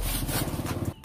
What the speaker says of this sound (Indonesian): Kemudian kita balas gergaji dari atas.